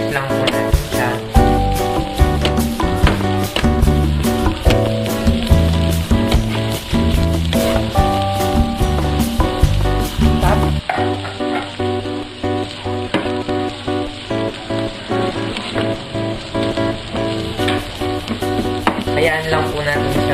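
Cabbage and onions sizzle loudly in a hot pan while being stirred, with a dense crackling fry broken by repeated scraping and clanking strokes of a utensil against the pan throughout.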